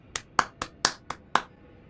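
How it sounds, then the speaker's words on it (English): Hand claps, six sharp separate claps spaced unevenly over two seconds, close and fairly loud against a quiet background, with no talking. "That was clapping."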